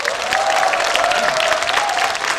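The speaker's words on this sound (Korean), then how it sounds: "김명민, 하지원, 김혜숙, 진구, 박보영님께 다시 한번 큰 박수 부탁드리겠습니다." Loud, dense applause from the crowd at a film awards hand printing event for the actors, continuous clapping with a sustained tone ringing under it, steady until a slight drop at the end.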